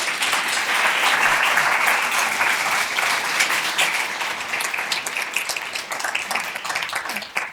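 A large audience at an author event in Nashville breaks into sustained applause, dense and loud at first, then thinning into scattered individual claps over several seconds.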